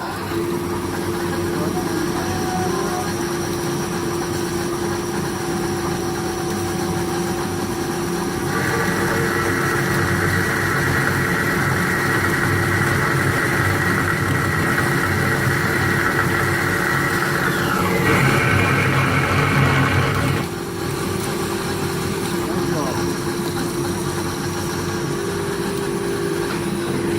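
A machine runs steadily while cutting wooden dowel pieces for trolleys, a constant mechanical hum with a higher whine joining midway and then cutting off near the end, with faint talk underneath.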